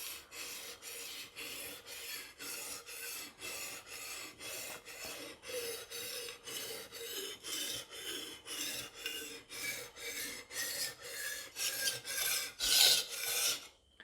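A knife blade scrapes back and forth across a wet sharpening stone in about two dozen even, rhythmic rasping strokes that grow slightly louder toward the end, close up and without talk.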